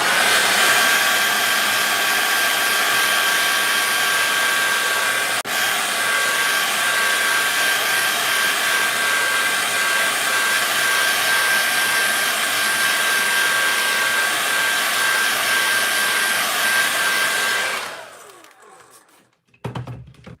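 A hair dryer on its cold setting blows steadily and loudly over alcohol ink for about eighteen seconds. It then switches off, and a few faint handling noises follow.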